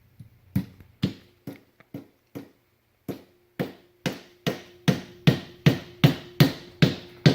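A hammer strikes parts of a DIY toy race car kit: sharp wooden knocks, a few tentative taps, then a pause and a steady run of harder, louder blows, close by.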